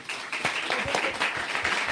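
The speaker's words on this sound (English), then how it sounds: "can we give them a round of applause" An audience's round of applause at a Georgia community event, with steady, dense clapping that stays fairly loud and continuous for the whole stretch without any talk.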